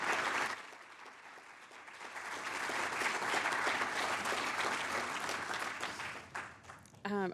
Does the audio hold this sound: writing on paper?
no